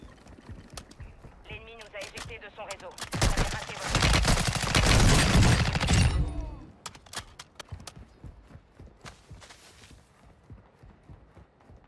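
Gunfire in a shooter video game played with the Chimera class, a dense burst of rapid shots building loud in the middle of the clip, with scattered lighter pops before and after.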